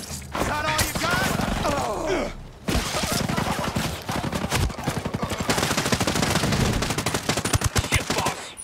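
Heavy automatic gunfire in Ghost Recon Breakpoint, loud rapid bursts of rifle fire rattling almost continuously, mixed with game voices and a player talking.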